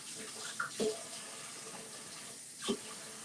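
Tap water runs while a pan is rinsed in a home cooking show kitchen, a soft steady flow with a couple of brief splashes, fairly quiet, no one speaking.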